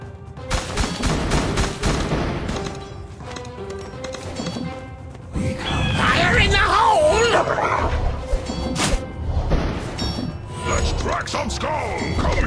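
Cartoonish bomb explosions and gunfire-like bangs in the Kingdom Rush Vengeance tower defense game, a busy run of sharp blasts and pops layered with game sound effects and character voice lines.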